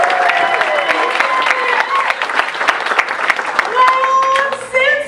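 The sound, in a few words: audience applause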